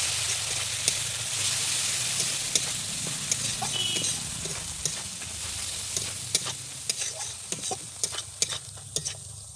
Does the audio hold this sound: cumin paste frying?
yes